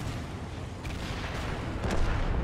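A heavy tank cannon in World of Tanks, a Tortoise, booms in a deep, rumbling blast, with a low roar lingering around it and a second muffled thud near the end.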